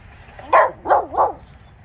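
A dog barks three times from nearby inside a Lexus GX460, in short, slightly whiny yips with brief pauses between them. A low vehicle rumble sits underneath.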